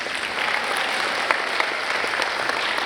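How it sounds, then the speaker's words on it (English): An audience claps steadily at a San Antonio arts event, with dense, sustained applause holding at an even level for the full stretch and a few sharper claps popping out near the middle. "Let's give her a big round of applause."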